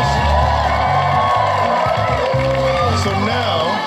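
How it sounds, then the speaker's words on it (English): A game show studio audience cheers and whoops loudly and continuously, with some clapping mixed into the din. "Give her a big round of applause."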